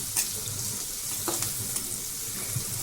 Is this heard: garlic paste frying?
yes